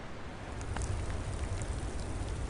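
Steady rain hissing and pattering with a low rumbling wash underneath, continuous and fairly loud throughout, with a few brighter drop ticks.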